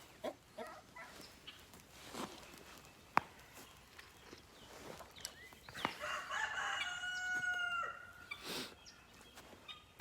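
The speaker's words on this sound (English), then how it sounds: "That's what real chicken sounds like." A rooster named Cedric crows once at moderate distance outdoors, a drawn-out call in the latter half, after scattered clucks, footsteps and faint background rustle.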